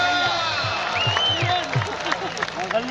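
A crowd at a game applauds and cheers, with dense clapping mixed with whoops and shouting voices that carry on steadily throughout.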